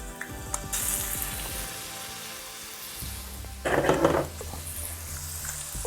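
Garlic paste hits hot oil in a frying pan with a bright, steady sizzle that rises in a short loud burst midway, along with some mechanical clicking from the kitchen.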